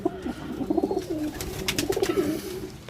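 Pigeons on a carpet coo steadily in low, rolling, overlapping phrases, close by, with a few sharp clicks and taps and no speech.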